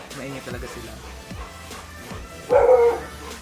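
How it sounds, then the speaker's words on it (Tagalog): Dogs bark a few times in a house while someone talks steadily, with one louder, sharper bark burst standing out near the end under her voice. "Pasensya na kayo sa aming mga aso."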